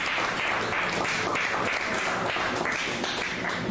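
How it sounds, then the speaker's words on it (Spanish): Church congregation applauding during a sermon, a steady wash of hand claps with no clear break across the whole stretch, fairly dense and even. "aplaudan otra vez para tomar un poco de agua."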